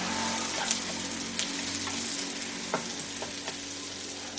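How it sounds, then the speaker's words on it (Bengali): Vegetables frying over a medium flame in a pan for a flattened-rice pulao, with a steady close sizzle and scattered scraping clicks of stirring, no voices. "মিডিয়াম ফ্লেমে দিয়ে আমি সবজিগুলোকে ভেজে নিচ্ছি"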